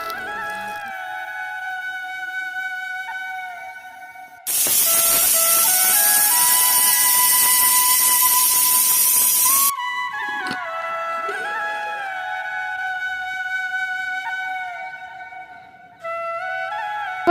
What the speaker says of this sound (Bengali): কুকারটা বন্ধ করে দেব আর দু থেকে তিনটা সিটি দিয়ে দেবো